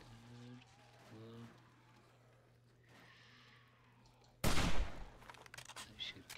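Gunfire in the video game 7 Days to Die, a loud burst of rapid shots lasting around two seconds after a quieter stretch with faint talk and a low hum, followed by scattered softer sounds.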